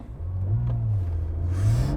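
A 2018 Acura NSX hybrid supercar launches hard under launch control, its engine note climbing in a steady rising drone with a brief shift dip, heard from inside the cabin at moderate loudness.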